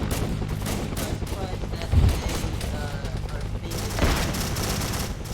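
Helicopter gunfire and rattling automatic weapons in a Vietnam War video game form a dense, continuous crackle of distant shots, with heavier bursts and a couple of low booms, while voices talk over the battle.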